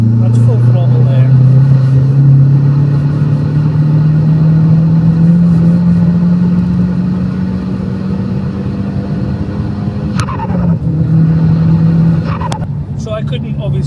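A car engine held at full throttle during an air filter restriction test, a loud, steady sustained roar with a slowly rising tone that dips briefly near the end, close by and alone.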